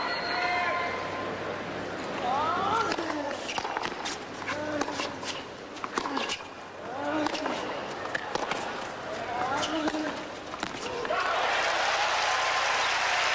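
Crowd at a US Open tennis match in 2003 (Vinciguerra vs Agassi) applauding a hustling point, with loud sustained clapping and cheering that swells and ebbs under a commentator's voice.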